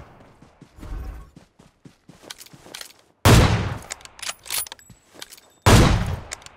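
Gunfire in the mobile battle royale PUBG Mobile: scattered quieter shots early, then two loud, close bursts of rapid automatic fire, each ringing out before dying away.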